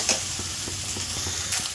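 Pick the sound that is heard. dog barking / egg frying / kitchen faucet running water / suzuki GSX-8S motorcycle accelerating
egg frying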